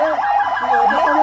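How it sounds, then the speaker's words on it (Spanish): Police patrol car sirens wail together in continuous, rising and falling sweeps, loud and close, with no talk over them. "Vecino diciéndole a Fidel Domínguez que apague la sirena de todas estas patrullas"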